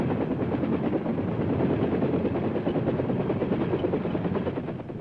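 A military helicopter on the flight line during the Vietnam era, its rotor and turbine making a loud, steady, close chopping roar that keeps going throughout, with no voices.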